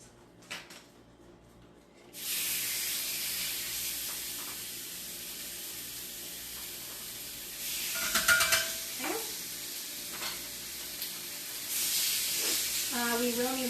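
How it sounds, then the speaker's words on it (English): Food with chili powder sizzles steadily in a hot pan, a constant bright hiss close by, with occasional clinks of utensils and a brief voice near the end. "Can you hear that sizzling here?"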